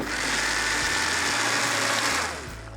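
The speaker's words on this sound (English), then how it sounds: "Put these tomatoes into the blender and quickly" A blender motor whirs loudly for a couple of seconds while pulsing fresh tomatoes for a quick sauce, then drops off toward the end.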